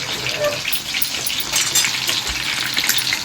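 Chicken fries in a pan with a continuous loud sizzle and bubbling, while stirring adds scraping and splashing textures throughout.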